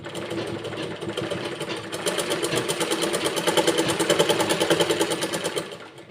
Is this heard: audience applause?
no